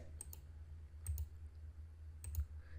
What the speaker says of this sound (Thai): ผมคลิกรัวนะ ทั้งหมดนะ